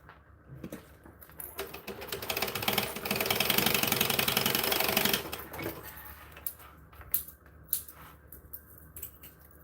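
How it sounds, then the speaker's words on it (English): A sewing machine stitches along one side of fabric, its needle running in a fast steady whir for a few seconds between lighter handling clicks and taps. "I'm going to sew one side and then clip the other side."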